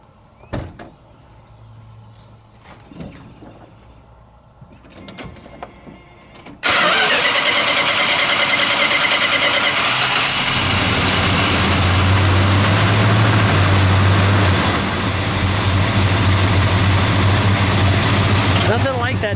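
A 1970 Plymouth Road Runner with a 440 engine and four-speed cranks briefly after a few quiet knocks, then fires up into a loud, steady rumbling idle close by that drops slightly in pitch as it settles.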